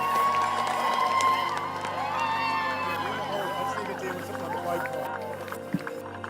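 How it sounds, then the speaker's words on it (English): Crowd cheering runners across the finish line of the King of Greystones 2024 charity race, a loud, continuous roar of voices with shouts and whoops layered over it from start to end. "I want the loudest cheer of the day"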